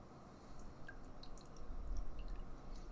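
Hazy IPA from WeldWerks Brewing (Extra Extra Juicy Bits) poured into a glass, a steady low liquid rush with soft drips and fizz, building slightly louder toward the end, close and with no talking.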